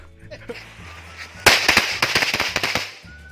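A rapid string of sharp Chinese New Year firecracker pops crackles for about two seconds, loud and close, after a quieter stretch of background noise.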